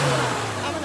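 A 1982 Toyota Corolla station wagon engine held at a steady high rev, droning loud and close for under a second, with voices chattering over it.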